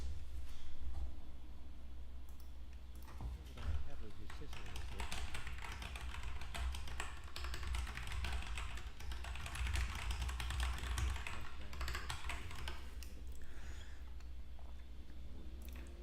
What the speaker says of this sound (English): more people can appreciate how loud my keyboard is